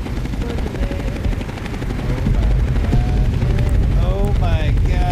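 Helicopters clatter amid heavy gunfire and blasts during a battle at Andrews Air Force Base in a Fallout video game, a loud, dense, continuous roar that swells partway through, with tonal whines and sweeps rising late.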